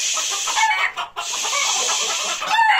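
Backyard hens clucking steadily in a close, busy chorus with no voices, during a winter holiday feeding of the flock.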